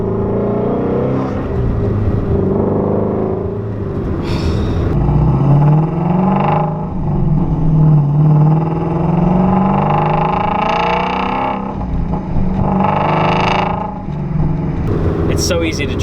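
A 2017 Shelby GT350 engine hums and rises under acceleration while driving, a steady low throaty drone swelling in several revs, with someone talking over it during much of the clip.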